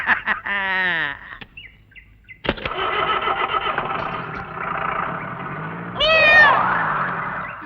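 A cat meows several times, a short rising meow near the start and a longer, louder one near the end, amid a car engine idling and background movement.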